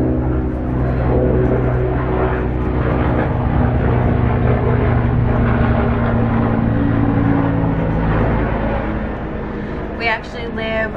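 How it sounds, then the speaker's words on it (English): Helicopter flying overhead near army barracks, heard through an open door as a loud, steady low drone that continues throughout. "there's a helicopter."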